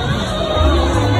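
Large festival crowd at a Dussehra Ravan Dahan gathering, a dense continuous babble of many voices with scattered shouts, steady and close all around.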